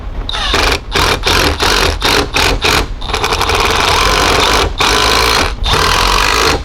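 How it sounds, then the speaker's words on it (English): A power driver runs screws into the leak detection pump bracket of a 2011–2016 VW Jetta, loud whirring bursts stopping and starting in quick succession, then a longer sustained run close to the mic. "we're gonna go ahead and start putting the screws in"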